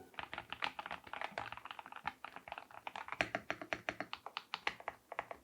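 Deep, muffled clicks of typing on a Proove Gaming Slicker Pro gaming keyboard with a suspended, sound-dampened switch plate, a steady run of close keystrokes with a brief lull midway, heard alone.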